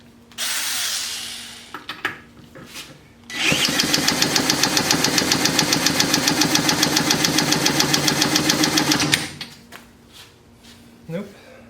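A 1958 Tecumseh lawn mower engine, a barn find running on a 50:1 fuel mix, cranks and chugs loud and close in a rapid, even rhythm for about six seconds, then cuts out; brief handling noises come before and after.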